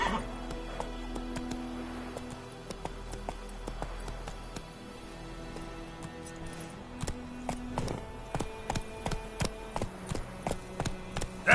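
Roach the horse in The Witcher 3 video game, hooves clopping and a neigh mixed with game music, the hoofbeats becoming a regular galloping rhythm toward the end.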